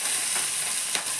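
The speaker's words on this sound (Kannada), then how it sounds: "ಹೆಚ್ಚಿಕೊಂಡಿರೋದು ಕರಿಬೇವಿನ ಸೊಪ್ಪನ್ನು ಈಗ ಹಾಕ್ತಾಯಿದ್ದೀನಿ" Chopped curry leaves hit hot oil in a pan while making masale rotti, giving a steady, close crackling sizzle with a couple of brief louder bursts of spitting, no voices.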